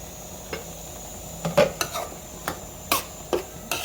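A spoon stirs gongura curry in a covered pot, producing several sharp metallic scrapes and clinks at irregular intervals over a faint background hiss.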